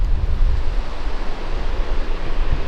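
Ocean surf at Ruby Beach in Olympic National Park, a loud, continuous wash of breaking waves with rough wind buffeting the microphone and no talk.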